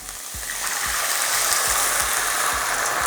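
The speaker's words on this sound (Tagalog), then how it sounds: "ilalagay ko na itong ating chicken stock." Chicken stock pours into a pot for chicken sotanghon soup, a steady rushing, splashing wash of liquid that holds level for a few seconds with faint low thumps beneath it.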